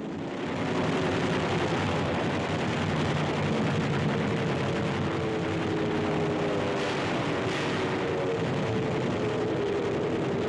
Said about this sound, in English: Guns aboard the warships bring down many of the raiders.